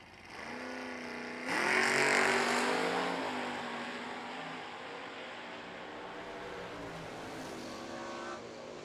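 Drag race cars, a Ford Ranchero and a Ford Falcon, launching down an eighth-mile strip, with engines revving hard in a loud surge that fades as they pull away.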